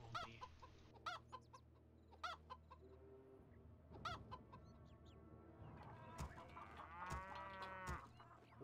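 Cartoonish chickens cluck repeatedly in WarCraft 3 during a Farmer vs Hunter match, in short bursts mixed with other game sound effects and a low cattle-like moo.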